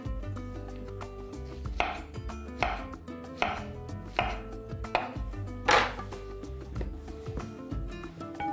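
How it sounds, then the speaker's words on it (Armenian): A knife chops bananas in a home kitchen with about six steady, crisp strikes close by, each a sharp thud, over a faint background hum and no talking. "Կտրատում ենք բանանները"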